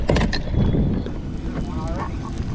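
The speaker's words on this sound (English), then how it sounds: "The wind sound's probably gonna be pretty bad" Strong wind gusting across a lake during bass fishing, a steady broadband roar buffeting the microphone throughout, loud and unbroken, with faint higher tones drifting underneath.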